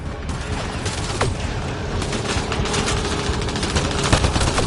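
Sustained gunfire from the video game Mass Effect: Andromeda rattles in continuous rapid volleys, loud and close, with occasional sharper cracks standing out from the steady barrage.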